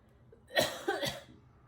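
A single person coughs twice in quick succession, close by, in a quiet room.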